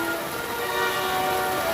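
Steady rain from Tropical Storm Fred pours down over a flooded yard and garden, a constant dense hiss with no talk.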